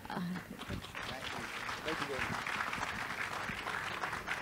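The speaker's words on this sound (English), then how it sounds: "A huge round of applause for Shehan Karunatilaka and Nandini Nair" Audience applause closes an author conversation session at a literary event: a steady, moderately quiet wash of clapping that holds evenly throughout, with faint voices mixed in.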